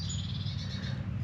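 Wild birds calling in a garden, thin high chirps held faint over a low steady background rumble.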